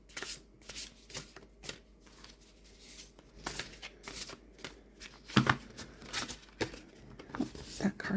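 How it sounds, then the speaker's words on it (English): Oracle cards from The Shaman's Dream Oracle deck given an overhand shuffle, heard as soft papery riffles and slaps in uneven bursts close to the microphone, with quiet speech around them. "Overhand shuffle, shuffles really easily."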